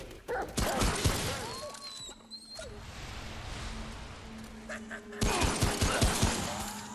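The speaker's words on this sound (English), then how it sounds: "I hear the lovely sound of dogs again" Dogs barking and yipping in a video game, several sharp barks near the start and a denser burst toward the end, with a steady game ambience and occasional distant shots between them.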